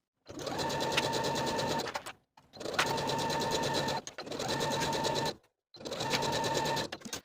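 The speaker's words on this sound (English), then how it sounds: "Then we're going to sew both of our side seams from the underarm to the bottom of the dress with a 3/8 inch seam allowance." A sewing machine stitching the side seams of a knit dress, four close bursts of rapid, even whirring with short pauses between runs.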